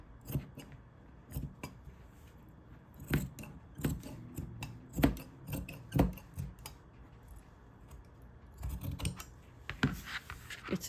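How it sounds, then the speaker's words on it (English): Scissors snip through soft minky fabric of a sewing-machine baby blanket, cutting diagonally at a corner in a series of close, irregular crisp cuts spread across the clip. "so at the corner I'm gonna cut it like this diagonally, not to pop the thread now"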